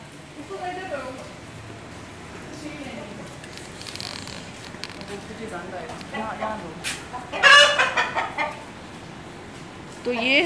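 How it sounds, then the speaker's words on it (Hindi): Chickens and a rooster, a white one among black ones, cluck and call on and off at close range, with a louder burst of squawking partway through, while someone talks over them. "वहाँ थे काले मुर्गे, उन मुर्गों में आया है एक अदद सफ़ेद मुर्गा।"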